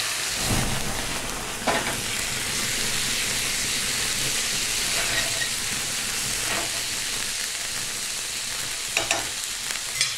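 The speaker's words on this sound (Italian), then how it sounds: "A questo punto fiammeggiamo con il whisky." Chicken being flambéed with whisky in a pan gives off a loud, steady sizzle and frying roar with a few brief crackles and pops, and no voices.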